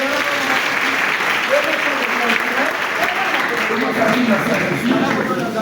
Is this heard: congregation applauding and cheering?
yes